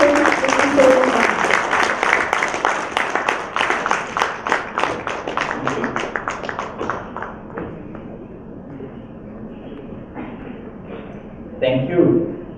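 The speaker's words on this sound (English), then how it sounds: "Let us all give a big round of applause" Audience applause welcomes a speaker onto the stage at a manufacturing day event, dense clapping that slowly thins and fades, followed by a voice beginning to speak.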